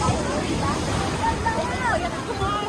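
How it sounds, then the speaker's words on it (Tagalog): Strong ocean waves at Boracay beach make a continuous, close roar of surf and wind that never lets up, with faint voices under it. "Ang lakas ng alon today"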